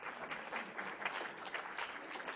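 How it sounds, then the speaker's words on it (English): A lecture-class audience claps in a steady burst of applause, fairly faint and heard from a distance, with no talk over it. "Yeah, you can clap again."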